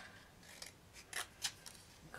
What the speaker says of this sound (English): you just take the scissors, cut it in the middle, go to each end